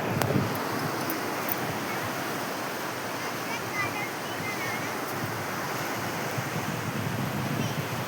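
Sea waves washing onto the beach at Kiltan island in Lakshadweep, a continuous loud roar of surf blended with wind rumble, steady and broad throughout.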